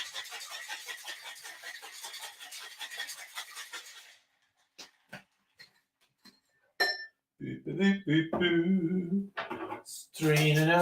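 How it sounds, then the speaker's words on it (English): Liquid strained from a cocktail shaker into a glass, with a steady pouring rush followed by a few sharp glass clinks, then a person talking nearby. "Straining our drink."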